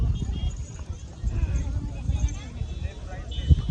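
Horse hooves clip-clop at a sightseeing ride in Mahabaleshwar, an uneven run of soft thuds close by with people talking over them.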